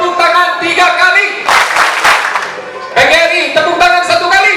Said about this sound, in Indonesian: PGRI tepuk tangan 3 kali.